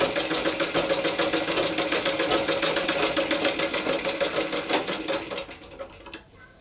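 A sewing machine runs steadily, stitching a baby frock with a fast, even mechanical rattle, loud and close, then slows and stops near the end.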